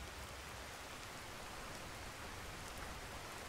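Steady rain falls in the fantasy world of Skyrim near a mountain path, a dense, even hiss of drops that holds at one level throughout with no voices.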